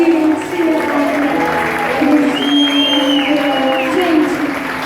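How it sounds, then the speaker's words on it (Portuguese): Applause for the musicians at a benefit concert show, clapping under a sustained musical tone and some crowd noise, fairly loud and steady with a rising whistle-like tone midway. "Uma salva de palmas para todos os músicos que estão aqui."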